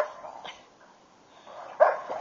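A dog barks roughly in a few short, gruff bursts, the loudest near the end, with no talking over it.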